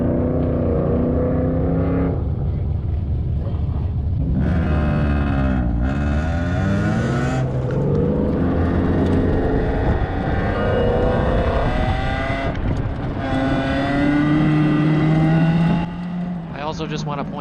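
Toyota Camry with an S-Series engine on 0W-8 oil, burning oil and smoking, driven through an autocross course; a loud, steady engine drone with shifting pitch as it accelerates and slows, continuous throughout, with no talk.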